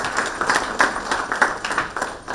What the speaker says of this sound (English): let's give a warm round of applause to welcome our guest to the dais